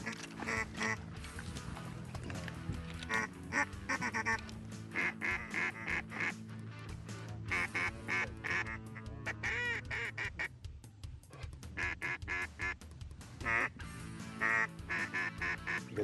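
Ducks quacking repeatedly during a waterfowl hunt outdoors, a busy irregular chorus of nasal quacks and calls at moderate distance that continues throughout, with faint occasional voices.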